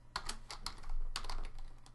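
Quick keystrokes on a computer keyboard while a Google Calendar sharing address is entered, with soft clicks in uneven clusters, close and fairly quiet, alone without talk.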